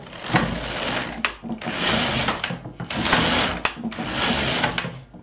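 An LK 150 knitting machine carriage sweeping across the needle bed to knit rows, four loud rasping passes in a steady back-and-forth rhythm, close up with no talking.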